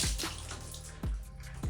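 Water running from a tap over a cat's fur during a bath at home, a steady broadband splash broken by a few low thumps, close and fairly quiet with no talking.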